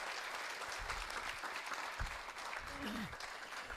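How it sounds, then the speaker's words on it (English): An audience gives a steady round of applause, a dense wash of clapping that holds evenly throughout, with a voice briefly heard over it. "The nice round of applause."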